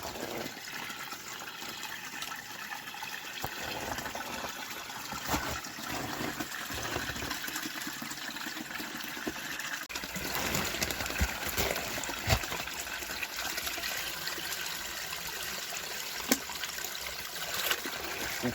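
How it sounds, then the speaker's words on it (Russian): Spring water trickles steadily from a small forest spring, a faint, continuous babbling outdoors with occasional soft splashes and no voices. "Покажу вам ключик, которым я буду набирать воду для себя."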